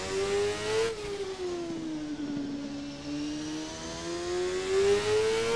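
IndyCar engine in the Assetto Corsa racing game, a high, steady whine that dips as the car lifts off the throttle and then climbs again as it accelerates, close and continuous.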